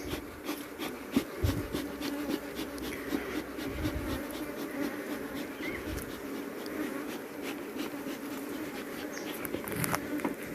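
Honey bees buzz steadily at an open hive during an inspection, a continuous dense drone at close range with occasional handling knocks.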